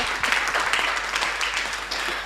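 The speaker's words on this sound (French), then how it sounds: "On applaudit très très fort." A radio studio audience on a sports show at Radio Côte d'Ivoire claps in a dense, steady burst of applause that fills the whole moment, fairly loud and close.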